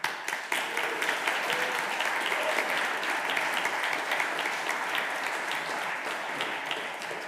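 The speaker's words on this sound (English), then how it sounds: "the applause here is, of course, for Svelte." A conference audience at a Svelte Summit talk applauds, with dense, steady clapping that carries on throughout and fades slightly toward the end.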